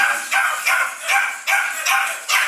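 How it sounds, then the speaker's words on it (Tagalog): Pomeranian dogs bark in rapid, evenly spaced high yips, about six sharp barks in a row, close and loud with nothing else around them. "yung ating mga napakagandang mga Pomeranian dogs"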